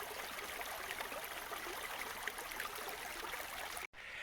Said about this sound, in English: you've got a great flow of water here